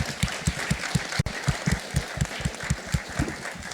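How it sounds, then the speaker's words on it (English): A panel audience at a carbon summit claps steadily and rhythmically, the applause moderately loud and sustained throughout with a sharp click near the middle. "let's give a round of applause for our panel here"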